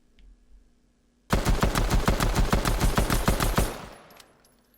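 Rapid pistol fire in Fortnite, a fast evenly spaced burst of loud sharp shots lasting about three seconds, close and alone with no talk.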